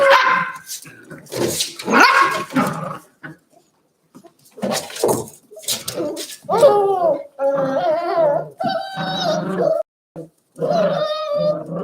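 Several puppies play fighting yap, growl and whine in rapid, overlapping bursts, loud and close, with brief pauses between scuffles.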